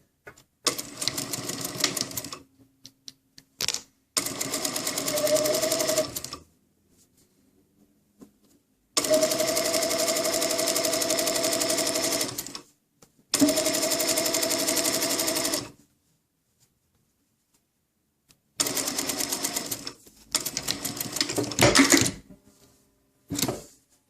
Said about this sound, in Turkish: Gördüğünüz gibi arkadaşlar bir dikiş attık.